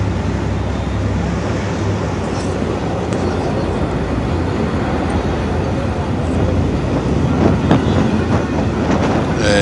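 A metro train of the Alexandria tram line rolling into Al-Mandara station, a continuous loud rumble with faint clicking of wheels on rails throughout, steady and close.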